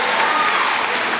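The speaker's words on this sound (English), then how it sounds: "Okay, keep that applause going." An audience in a school hall applauds at a City of Norwich School dance show, with dense, continuous clapping from many hands that stays full and even.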